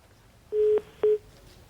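A telephone line disconnecting during a live Hindi TV news debate: two short electronic tones, one after the other, sound alone over a quiet background.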